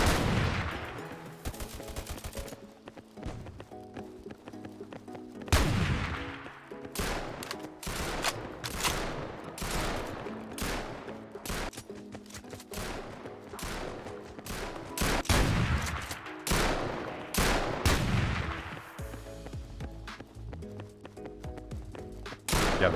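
Sniper gunfire in the WarFi first-person shooter video game, with repeated loud sharp shots at an irregular pace, some in quick bursts, amid constant game noise for the full stretch.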